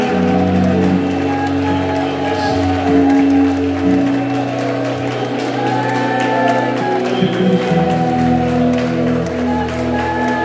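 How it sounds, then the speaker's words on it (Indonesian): Church congregation clapping and cheering at an Easter revival service, a loud continuous crowd roar with whoops and shouts layered over sustained music or organ tones, filling the whole stretch. "Tepuk tangan semuanya."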